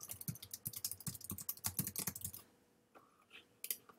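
Bursts of quick keystrokes on a computer keyboard, close and clear for about two and a half seconds, then a quieter pause with a few scattered taps.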